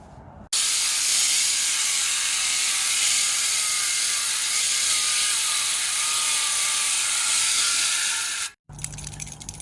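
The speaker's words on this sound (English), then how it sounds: "We're about to use the palm nailer and get those nails in the bottom" A pneumatic palm nailer drives nails into the bottom of deck posts during a deck build, giving a loud, continuous buzzing rattle for about eight seconds that cuts off abruptly, then a brief quieter clatter.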